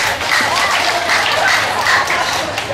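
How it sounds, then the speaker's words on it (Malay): A political rally crowd applauds loudly for a Malaysian parliamentary candidate; dense, continuous clapping fills the whole stretch, close and strong, with no voice on top. "bagi satu tepukan."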